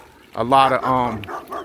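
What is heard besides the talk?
dog barking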